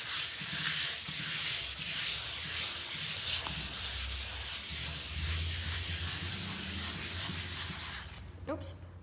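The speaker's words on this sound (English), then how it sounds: "love that sound of sanding, like the sandpaper" Steady back-and-forth scratching of sandpaper on a wooden furniture edge, close and rhythmic, stopping abruptly near the end.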